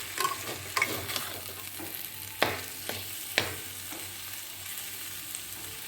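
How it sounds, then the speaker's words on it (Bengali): Taro stolons frying in a pan with sugar, a spoon stirring with scattered scrapes and a few sharper clinks over a soft continuous sizzle, close by and moderately quiet. "চিনি দিয়ে ভালো করে একটু মিশিয়ে"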